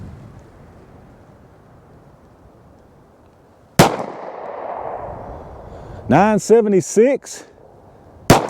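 9mm Winchester 147 grain hollow point rounds fired from a Sig P365 outdoors, a loud sharp shot, then a few seconds later another report at the very end, with a voice speaking in between.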